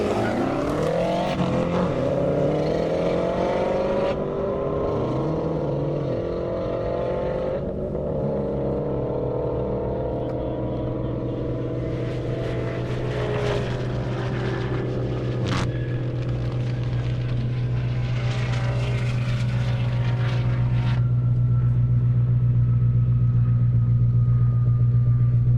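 A BMW M5 Competition and a Subaru WRX STI race side by side down an airstrip at a speed event, engines loud and continuous, shifting through gears before settling into a steady high drone.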